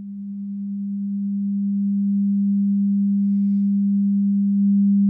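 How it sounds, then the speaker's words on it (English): A steady 200 Hz sine tone from a generator, a pure unbroken hum that swells gently in loudness at the start and then holds constant, alone and clean. "if I pull up the amplitude of the sine wave generator, we'll start to hear it."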